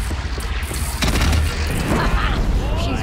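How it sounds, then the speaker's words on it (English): A multi-grenade launcher in Horizon Zero Dawn sets off heavy, booming explosions that overlap into a loud, continuous rumble with crackling debris, close and dense. "It's like a multi-grenade launcher."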